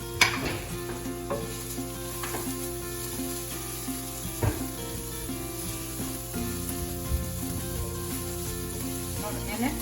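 Chopped ginger sizzles in a hot pan as stuffing for bittermelon (karela), a steady crackling fry with occasional stirring clinks throughout.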